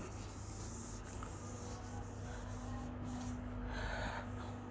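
An eraser or cloth rubs a classroom board during a physics lecture on alternating current, giving a faint, continuous scrubbing hiss with small irregular strokes and no talk.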